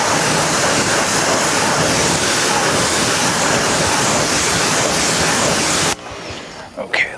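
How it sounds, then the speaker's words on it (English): A Sun Joe pressure washer fitted with an aftermarket gun and hose sprays a Mercedes C450 AMG in a loud, steady hiss for about six seconds, then cuts off, leaving quieter sounds. "the pressure washer I'm using is a Sun Joe"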